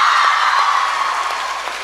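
A crowd applauds at a campus awards ceremony, dense, steady clapping filling the hall without a break.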